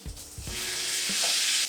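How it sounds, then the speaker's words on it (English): Tomatoes hit a pan of hot dry spices, red chili powder and cumin powder, for a steady close sizzle with a few soft stirring clunks at the start, cooked over low heat with no talking. "Now I'm going to add the tomatoes."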